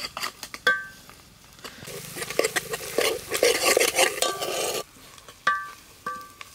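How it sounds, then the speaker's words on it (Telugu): Fresh ginger garlic paste frying in oil with a steady sizzle, stirred with a metal spoon that clinks and scrapes against the pan, with sharper taps at the start and end. "ఫ్రెష్గా దంచిపెట్టుకున్న అల్లం వెల్లుల్లి పేస్ట్ వేసుకుంటాను. ఎందుకంటే నూనెలో వేసుకోవాలి."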